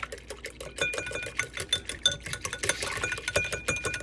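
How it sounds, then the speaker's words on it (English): A whisk beats cacao into freshly strained tree lungwort tea, producing a fast, steady run of close clinking taps against the cup or pot, with no speech. "You want to add the cacao. I'm going to whisk it in there."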